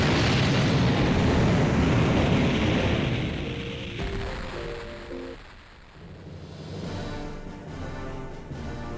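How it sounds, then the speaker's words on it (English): A star explodes in the Infinite Space DS game, a loud sustained rumbling roar that fades after about four seconds and gives way to quieter tonal effects, with no talk. "I love how the explosion of the star was able to, like, outpace ships that can go faster than light."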